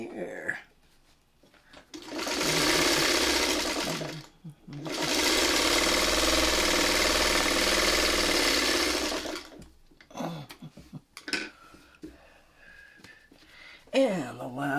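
Sewing machine stitching a quilt seam, two sustained loud whirring runs separated by a short pause, followed by quieter fabric handling and brief talk.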